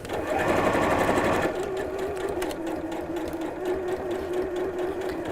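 Sewing machine running steadily as it stitches the side seam of a fabric drawstring bag with a carry strap, a close continuous mechanical whir that stays loud and even throughout, with a brief louder burst at the start.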